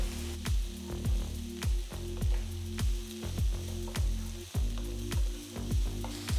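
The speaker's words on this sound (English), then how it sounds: "Next add 4 medium-sized tomatoes cut up." Chopped tomatoes with garlic, ginger and green chillies sizzle and fry steadily in a pan for a paneer masala, the hiss quiet and even while repeated soft stirring strokes recur at a regular pace.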